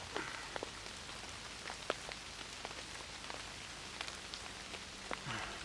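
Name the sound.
heavy rain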